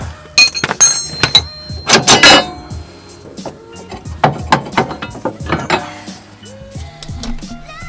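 A wrench and 17 mm socket working a nut loose during a driveshaft job on a 1992–2000 Honda Civic, with irregular metallic ratcheting clicks, clanks and scrapes in close bursts.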